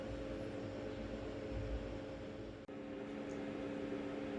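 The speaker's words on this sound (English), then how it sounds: "the fan, that's what you hear, is the fans going off on the computer" Computer cooling fans spin hard while the machine mines Bitcoin, giving a steady close whoosh with a droning low hum. It runs unbroken and fairly loud apart from one brief dip partway through, and no one talks over it.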